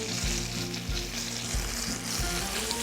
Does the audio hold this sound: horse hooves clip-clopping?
no